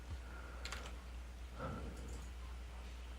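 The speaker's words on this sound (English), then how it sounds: "Start typing my name." Faint, sparse clicks of keys on a computer keyboard while a name is typed in a computer lab, a few quiet taps in short clusters over low steady hum.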